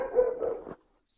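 A single short dog bark or yowl, close but moderately quiet, lasting under a second and then cut off into silence.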